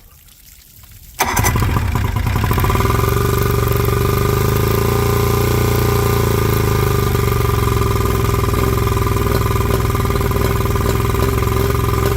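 An outboard boat engine, suspected of water filling its cylinders, starts abruptly and settles into a loud, steady close-up running drone with a watery trickle underneath, no voices.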